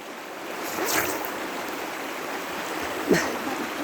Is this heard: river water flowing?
yes